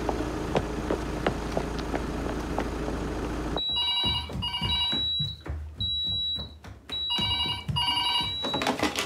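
A telephone rings in repeated bursts of electronic trills with short gaps between them, close and fairly loud indoors, following a stretch of low background rumble.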